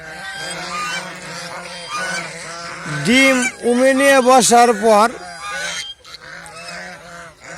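Geese honk loudly in a raucous cluster of repeated nasal calls, rising to a dense peak midway, while someone talks over the flock.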